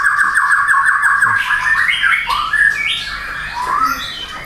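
A nine-month-old pet songbird sings nearby in a loud, continuous run of squawky chirps and rising whistled phrases, with no talking.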